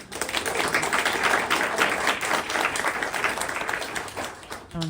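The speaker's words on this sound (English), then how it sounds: "Maybe we can give them a round of applause." An audience at an evening community talk on rising seas and climate resilience breaks into a full round of applause, dense and steady for several seconds before trailing off.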